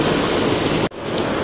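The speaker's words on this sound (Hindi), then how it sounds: "ओ भाई, बारिश देख रहे हो कितनी तेज हो रही है।" Heavy rain pours down outside a shop, a steady, loud, broadband wash of water that briefly dips before returning just as dense.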